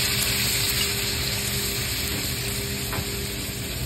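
Dry white fish with onion and garlic sizzling steadily in hot oil, a dense continuous frying hiss with faint stirring scrapes, close and fairly loud throughout.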